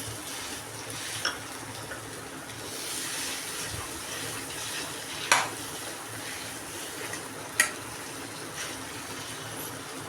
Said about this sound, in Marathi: बटाटा आपल्याला आता छान असा फ्राय करायचं आहे